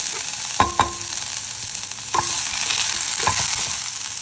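Onions hit hot mustard oil with mustard seeds, giving a continuous broad hiss of frying, with a few knocks and scrapes of a stirring spoon against the pan, close and steady.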